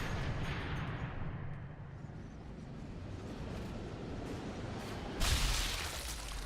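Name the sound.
sniper rifle shot in video game Sniper Elite 3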